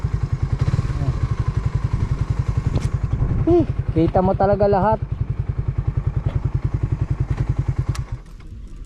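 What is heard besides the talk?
engine running before being switched off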